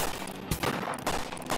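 Revolver gunshots in a slot bonus game ring out as a quick series of sharp, loud bursts, several shots spaced across under two seconds with no talking.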